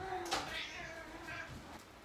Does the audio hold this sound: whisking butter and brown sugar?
no